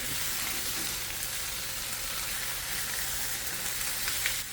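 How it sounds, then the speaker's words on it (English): Seasoned salmon searing in a hot pan, a continuous loud sizzle and crackle of frying that runs unbroken, with no voices over it. "Start by seasoning and searing off your salmon."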